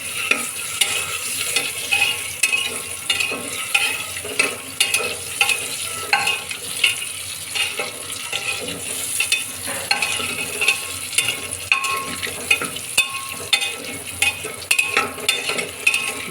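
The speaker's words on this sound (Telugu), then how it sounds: "ఎగ్స్ అయితే ముందు ఫ్రై చేసుకోవాలి." Boiled eggs frying in oil in a pan, a loud, steady sizzle with frequent spatula taps and scrapes against the pan throughout, no talking.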